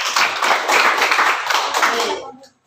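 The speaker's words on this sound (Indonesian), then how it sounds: "Mari kita berikan tepuk tangan Bapak Ibu." A room of people clapping together at a learning session in Indonesia, a dense steady burst of hand claps that stays loud for about two seconds, then fades quickly to silence.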